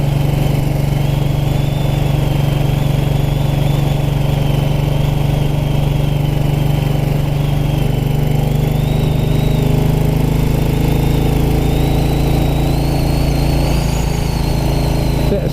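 A 1929 black Ariel motorcycle with girder forks rides at about 30 mph in second gear along country lanes, its engine a steady, loud, continuous drone throughout with a slight rising whine.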